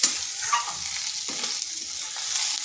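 Neem leaves and eggplant fry in a pan while a spatula stirs them, soft scraping strokes over a quiet continuous sizzle, no voices.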